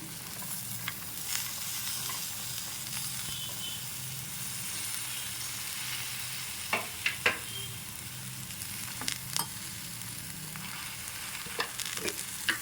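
Broad beans sizzle steadily in hot tempering oil, a soft continuous crackle and hiss with occasional sharper pops and stirring clinks, no voices.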